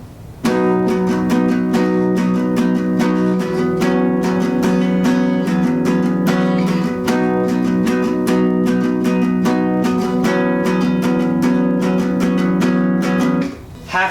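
An acoustic guitar strums chords in the syncopated strum rhythm of a song, bright, close and steady, playing alone for about thirteen seconds.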